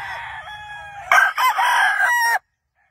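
A gamefowl rooster crows loudly and close by on a game farm, one long strained cock-a-doodle-doo rising over softer clucking fowl and then cutting off abruptly.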